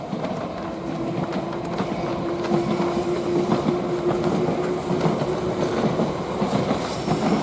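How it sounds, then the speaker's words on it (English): London Underground Piccadilly line 1973 stock train passing close by, a loud continuous rolling rumble with wheel clatter and a sustained squealing tone above, steady throughout with no talking. "There's a Piccadilly line. That's a 1973 stock."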